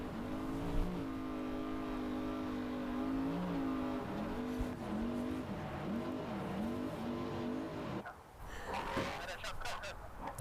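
Racer Engineering two-wheel drive trophy truck racing in Baja at the SCORE San Felipe 250, its engine droning steadily with rising and falling pitch, loud and close, while a commentator talks over it; the tone breaks near the end.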